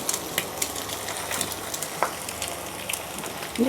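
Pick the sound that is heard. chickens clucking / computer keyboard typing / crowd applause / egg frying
egg frying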